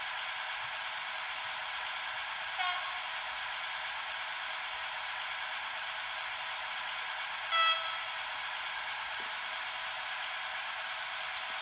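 An HO scale Ontario Northland model locomotive sounds its horn in two short blasts over a steady electronic hiss.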